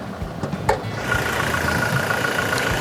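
A 2018 Toyota Hilux Revo pickup's 2.4-litre, 150-horsepower diesel engine idles close by, a steady rattly rumble with faint clicks at the start, running evenly without talk.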